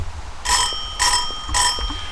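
The bell of a US TP-3 sound-powered field phone rings in three short, loud, shrill bursts, evenly spaced about half a second apart, bright and metallic with a brief buzzing rattle, close by and with no voices.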